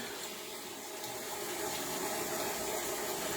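Hot water runs from a tap to wet a shaving brush, a steady, even rush of splashing flow that stays constant throughout with no voices.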